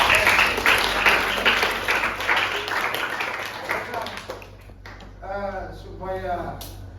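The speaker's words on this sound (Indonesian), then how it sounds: "Oke, tepuk tangan dulu." An audience at a school debate claps for several seconds, the dense applause thinning out and fading, after which a voice speaks briefly near the end.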